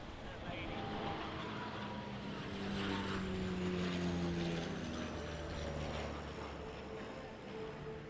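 A C-127A military de Havilland Canada Dash 8 turboprop makes a flypast at an airshow, a faint propeller drone rising and fading with gear-like whine under the crowd's voices.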